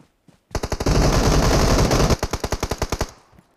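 Automatic gunfire in the mobile shooter game PUBG Mobile, a dense rapid burst that starts in quick shots, merges into a sustained roar, then breaks back into separate rhythmic shots before stopping, loud and near.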